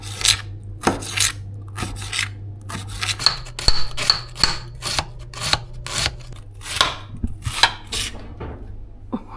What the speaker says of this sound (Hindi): इनको भी आप बारीक बारीक चॉप कर लें।